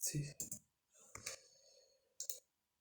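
A computer keyboard clatters in a quick cluster of key clicks, then a lone tap and another short burst, quiet and close, with a voice speaking briefly in between.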